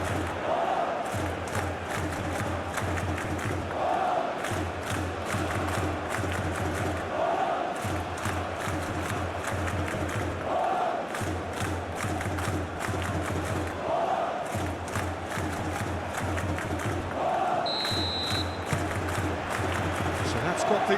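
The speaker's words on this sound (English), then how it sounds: "A capacity crowd here." A capacity stadium crowd in the eFootball PES 20 football game, Netherlands vs Algeria in a World Cup simulation, roars steadily with swelling cheers that rise and fall, and commentator voices run over the top.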